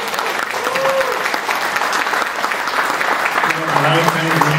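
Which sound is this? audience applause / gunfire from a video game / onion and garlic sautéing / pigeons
audience applause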